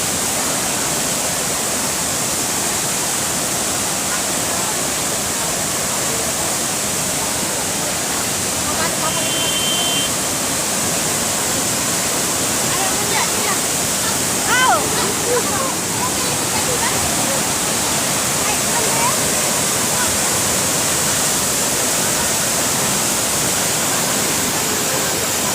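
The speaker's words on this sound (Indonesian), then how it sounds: "Airnya sangat tinggi 50 meter di atas ke bawah." A powerful waterfall about 50 metres high pours down in a steady, dense, full-range roar that never lets up, with faint voices briefly audible beneath it.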